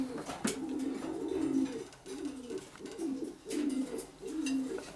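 A breeding pigeon coos in a repeated low, rolling rhythm, several phrases in a row, close by and steady.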